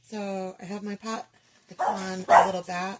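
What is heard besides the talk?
dog barking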